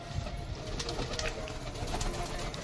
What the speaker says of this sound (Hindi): देखो ये हमारे सारे कबूतर है